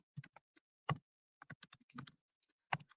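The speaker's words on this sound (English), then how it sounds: "Sorry if my typing is slow and clunky, by the way." Typing on a laptop keyboard, with sparse, uneven clusters of close, crisp key clicks and short pauses between bursts, heard alone without talk.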